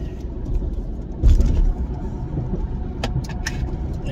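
A truck passes on a road with a low engine rumble and tyre noise, swelling briefly as it goes by, then settling into steady traffic hum.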